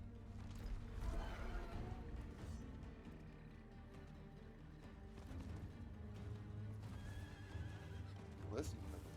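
A horse in the video game Diablo IV neighs and whinnies loudly in fear, with snorts and hoof clatter, against a low rumbling background; a voice speaks briefly over it.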